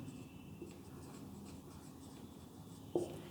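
Marker or chalk writing on a classroom board while the sides of a triangle are labelled, with faint scratchy strokes under a low hum and a sharp tap near the end, and no talking.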